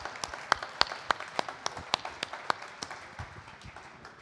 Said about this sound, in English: And give yourselves a big round of applause.